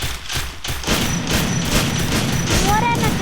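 Gunfire in a shooter video game rattles in dense, rapid overlapping bursts and booms, loud throughout, with a voice talking underneath.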